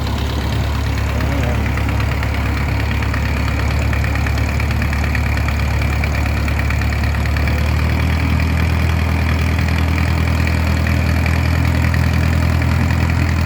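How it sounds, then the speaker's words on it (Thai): A large ferry's engine runs steadily on a river crossing, a loud continuous low rumble with a knocking idle character that holds throughout, with no talk over it. "เครื่องเรือมาแล้ว เครื่องเรือใหญ่มาแล้ว"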